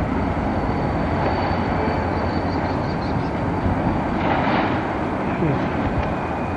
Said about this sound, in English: That's your train engine.